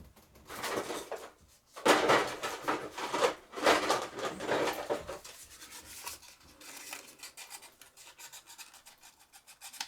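Rubbing and rasping to deburr a part of a Crown Kaiser butane lighter during servicing, several short scraping strokes up close, strongest in the middle and fading toward the end.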